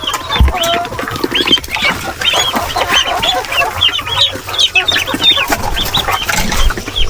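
Native chickens in a farm pen clucking and squawking agitatedly, many birds calling over one another in a loud, dense, continuous racket close by, without any talking.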